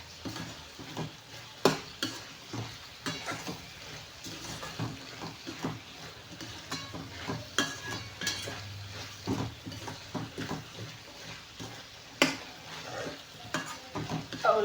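Chutney being tempered in a pan with small onions, coriander and curry leaves: a steady sizzle with sharp stirring and scraping clicks from a spoon against the pan, close and fairly loud, no talking.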